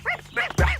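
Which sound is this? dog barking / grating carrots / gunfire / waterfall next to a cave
dog barking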